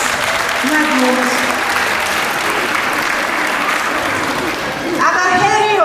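Audience applause for a kindergarten at its 60th anniversary celebration, a steady dense clapping that fills the whole clip, with a voice speaking over it near the start and end.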